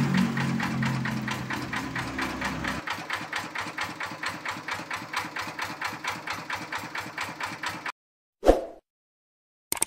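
A Kubota diesel engine runs during servicing with a rapid, even mechanical knock, a low drone fading early, then shuts off around eight seconds, followed by one brief thud and silence.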